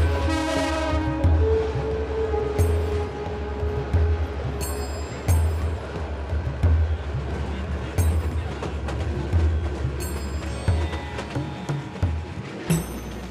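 An old, drafty colonial-era passenger train in Bangladesh rumbles along with a deep rhythmic clatter of wheels over rail joints, a horn blast at the start and metallic squeals and rattles throughout, loud and close.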